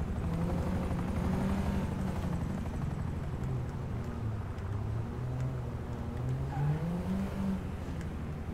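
A helicopter in a video game's cargo battle drones steadily throughout, its rotor and engine tone wavering in pitch, loud and continuous, with car engine noise mixed in and no voices.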